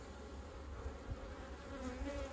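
A steady, low insect buzz fills the clip, the dense hum of many Caucasian honeybees close by in a hive, continuous without pauses.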